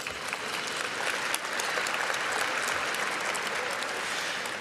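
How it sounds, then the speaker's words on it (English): An audience at a State of the City address gives PNC a round of applause. Dense, sustained clapping fills the whole stretch evenly, loud and close, with no speech over it. "Please, a round of applause for PNC"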